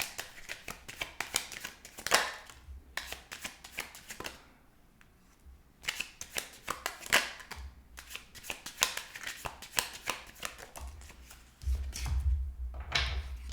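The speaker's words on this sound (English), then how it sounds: "the cards do keep getting stuck no matter which way I shuffled them" Tarot cards that keep sticking are shuffled in repeated bursts of quick riffling and flapping, with short pauses between, close up and without talking.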